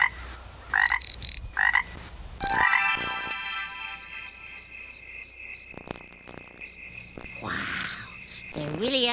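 Voices imitate forest sounds, alternating rhythmic frog croaks with rapid, high cricket chirps in a steady, repeating pattern. The sounds are loud and close.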